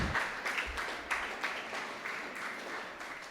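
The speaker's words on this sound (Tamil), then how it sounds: "மாணவர்கள் நல்லா கைத்தட்டி உற்சாகப்படுத்துங்க." Students applaud at a certificate ceremony, a steady wash of many hands clapping at moderate distance throughout, with no speech over it.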